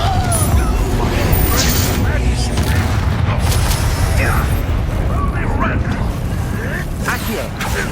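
Confringo fire spell blasts in Hogwarts Legacy combat on PS5: loud booms and bursting pops pile over a continuous rumbling din, while a voice shouts spell names.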